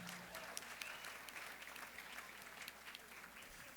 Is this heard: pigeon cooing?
no